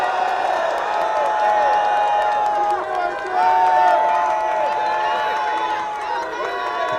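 Crowd at a Korean university student rally, clapping and cheering for students, with raised voices and shouts mixed through the steady noise of the gathering.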